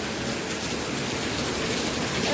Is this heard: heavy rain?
yes